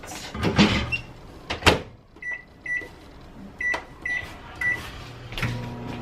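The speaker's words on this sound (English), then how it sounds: "Let's microwave that." A microwave oven heating instant rice through a peeled-back lid: door and cupboard clunks, then a run of short electronic beeps from the keypad, and faint knocks over a low background hum.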